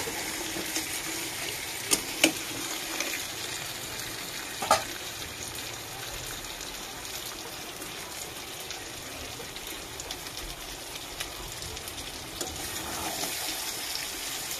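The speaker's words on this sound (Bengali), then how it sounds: "অনেক সময় ধরে আস্তে আস্তে কষাচ্ছি।" Country chicken curry cooks slowly in a pot, giving a soft, continuous sizzling hiss with a few sharp clicks and knocks from stirring; steady and moderately loud, with no voices.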